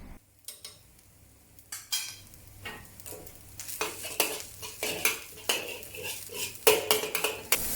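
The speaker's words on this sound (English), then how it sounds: "stir fry over high heat until smoke starts rising and the rice smells fragrant" Rice with scallions and XO sauce stir-fried over high heat, with a sizzling hiss under repeated sharp scrapes and clanks of a spatula against the pan that grow busier and louder, close by, without speech.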